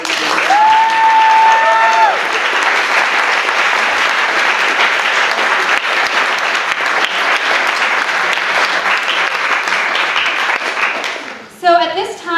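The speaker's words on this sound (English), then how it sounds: "Can we just give these guys another round of applause?" An audience at a talk on truth beyond science gives the speakers a sustained round of applause, a loud, dense wash of clapping that continues for several seconds before fading at the end.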